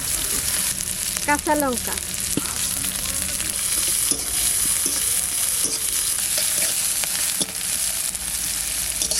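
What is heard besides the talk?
garlic, onion and black cumin sizzling in hot oil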